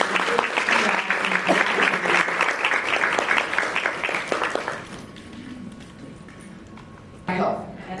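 Audience applause at a health talk by Dr. Higgie, dense and steady for about five seconds before fading away, then a short burst of clapping near the end.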